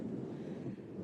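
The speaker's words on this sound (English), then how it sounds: "Very windy." Strong wind buffets the microphone on an exposed hilltop lookout near Esperance, Western Australia, a steady loud low roar with gusty rumble throughout.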